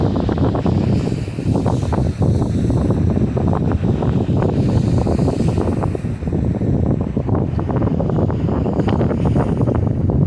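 Strong wind rushes and buffets at a beach, a loud continuous roar with a low rumble of surf or wind noise on the microphone and no speech.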